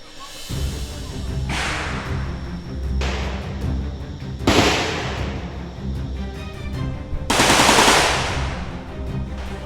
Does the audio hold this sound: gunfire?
yes